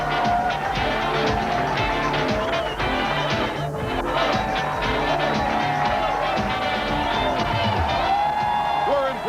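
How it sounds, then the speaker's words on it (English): A spirited crowd at Harvest Park Bowl in Brentwood, California cheers and whoops through the finals of a 1998 PBA bowling tournament, a dense, continuous roar with scattered clapping and shouts, loud and close throughout. "a very spirited crowd is gathered for the finals of the Brentwood Classic"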